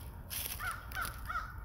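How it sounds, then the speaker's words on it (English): Crows cawing in a New Orleans cemetery, a few harsh repeated calls at moderate distance over steady low background noise, no talking. "See the crows? You can hear them."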